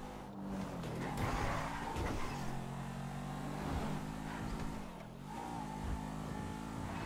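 Car driving and accelerating in GTA 5, an engine droning with rising revs that climb, shift down and climb again over a steady road rumble, close and continuous.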